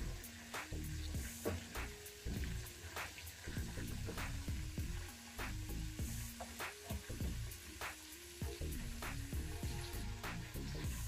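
Indian gooseberries (amla) fry in oil with a steady, fairly loud sizzle. Repeated scraping stirs run through it, and a melodic tune plays in the background.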